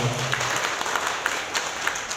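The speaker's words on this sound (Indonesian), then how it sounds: "Beri aplaus buat tempat ini." Applause from a small audience at a digital marketing gathering, a steady patter of hands clapping for a couple of seconds at moderate volume.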